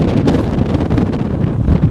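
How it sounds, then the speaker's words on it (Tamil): Strong seaside wind buffets the microphone while riding a bike along the coast at Nainativu, Jaffna, a loud continuous roaring rush with no talking. "காற்றுன்னா பயங்கரமாக காற்றடிக்குது."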